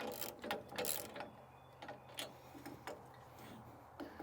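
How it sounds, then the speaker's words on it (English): Ratchet or wrench tightening nuts on a ROPS-mounted LED work light bracket on a tractor, heard as a few short close clicks and metallic ticks scattered over a quiet room tone. "take a 1/2 inch wrench or ratchet or 13 millimeter and just tighten it up"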